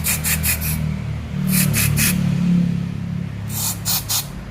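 Cleaner sprayed from an aerosol can onto the PCV valve of a Nissan Almera, three short bursts of hissing spray, then a steady rubbing, then three more bursts, close up with no talk.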